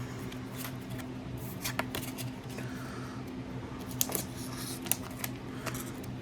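Pokémon trading cards from a 7-Eleven blister pack are handled and slid back into the pack, producing soft papery shuffling, rustling and a few sharp clicks close by, with no talking.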